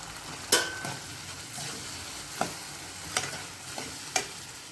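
A pan of masala for masala bread sizzles steadily with occasional scraping and clinks of a spoon stirring, the bubbling hiss continuous underneath.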